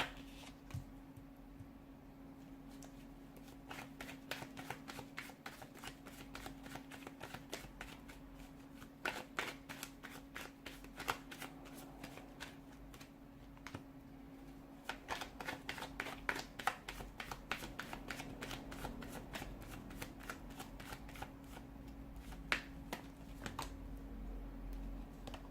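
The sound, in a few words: shuffling a deck of tarot cards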